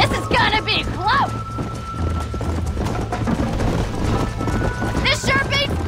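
Horses gallop in the Red Dead video game, a steady drumming of hooves running under near, continuous chatter between riders, with a brief whinny-like call near the start and again toward the end.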